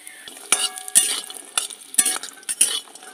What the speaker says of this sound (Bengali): কড়াইয়ের তেল গরম হয়ে গেছে, বড়িগুলো আমি ভেজে নিচ্ছি।